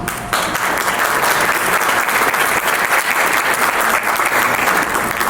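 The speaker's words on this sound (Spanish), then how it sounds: "Rogerio Silva y Daniel Brandao, para quienes pido un aplauso" An audience at a seminar closing conference breaks into sustained, loud applause that starts abruptly and holds steady, a dense wash of many hands clapping with no speech over it.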